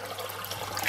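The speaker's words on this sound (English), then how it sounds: "you just fill up this thing with water" Water from a kitchen tap rushes steadily into a pan, a close, even hiss for about a second with no talk.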